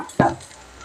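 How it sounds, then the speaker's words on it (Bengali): Spices for Bengali fish kalia made with katla fish hit a hot pan with tomato, giving one quick loud sizzle that fades into a soft crackle, close and alone. "মশলাগুলোকে ভালো করে ভাজবো।"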